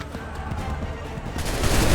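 Musket volleys crack out in Assassin's Creed III, a dense rolling fusillade of many overlapping shots that swells louder toward the end, with no talk over it.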